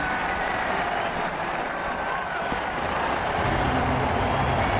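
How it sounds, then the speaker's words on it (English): Stadium crowd applause from the Ashes Cricket 2009 video game during an IPL match, a steady loud roar of clapping and crowd noise lasting the whole stretch. "The crowd appreciate the importance of this knock and are giving him a good round of applause"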